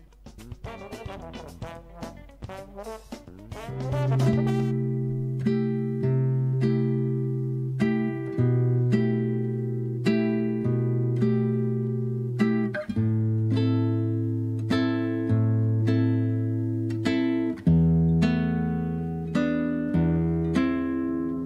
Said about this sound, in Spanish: porta una hermosa guitarra que tiene por debajo de las patas 50 años